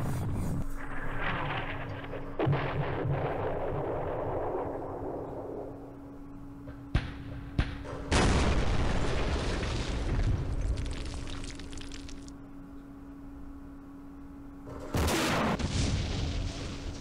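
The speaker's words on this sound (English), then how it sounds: "We have a lot of artillery plotted there this turn." An artillery barrage explodes in the wargame Campaign Series Middle East. Heavy booms and long roaring blasts follow each other, some lasting several seconds, with a low steady hum underneath.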